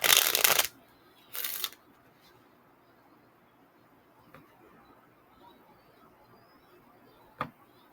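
Forgiveness oracle cards are shuffled by hand in two quick close riffling bursts, then a quiet room with a few faint taps and one later soft card snap.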